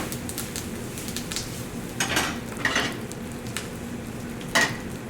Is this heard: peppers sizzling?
yes